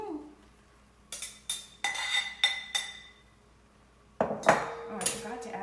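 A metal cooking pot and utensils clank while beef stroganoff is made: several sharp, ringing knocks spaced apart, a quiet gap, then a denser clatter of scraping and clinking, close by with no talking.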